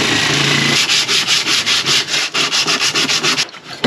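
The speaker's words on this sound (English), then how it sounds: "rusty areas and get them all cleaned up with the sandpaper." Sandpaper scrubs hard over rusty metal in quick, rhythmic back-and-forth strokes, close and loud with no voices.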